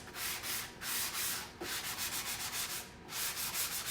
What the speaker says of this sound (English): basically just sanding some of that back